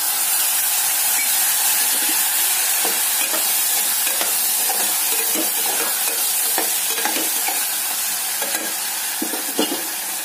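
Potato rice ingredients fry in oil with lemon juice added, a dense steady sizzle and hiss filling the pan while a spoon scrapes and stirs in scattered soft strokes, no voices.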